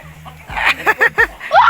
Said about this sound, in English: Look, chicken.